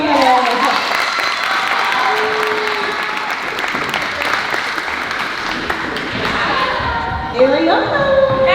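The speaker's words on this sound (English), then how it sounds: "Let's give a round of applause for Nalaya." An audience at a school show choir cabaret gives dense, sustained applause with scattered cheers. The roar fills the room steadily, and a voice comes over it near the end.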